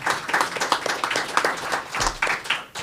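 Scattered audience clapping breaks out at a back-to-school briefing, an uneven patter of hands that swells and thins over a few seconds.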